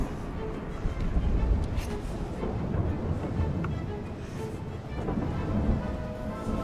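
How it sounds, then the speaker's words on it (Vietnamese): Rain pours steadily in the survival game Smalland, with low rumbling thunder rolling through a dense, continuous wash of storm noise and wind. "Rồi trời lạnh rồi, mưa nữa chứ."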